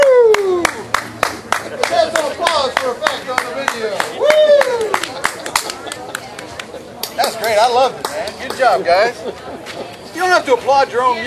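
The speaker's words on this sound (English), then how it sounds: "you don't have to applaud your own music" Sharp hand claps ring out in a quick irregular series at a BBQ competition, close and loud, while excited voices talk over them throughout.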